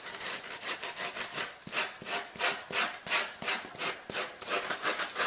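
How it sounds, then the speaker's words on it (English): Close-up sanding of a cork Birkenstock footbed under repair, a steady run of rhythmic abrasive strokes, each a bright scratchy rasp, loud and alone without any talk. "I want to now sand this"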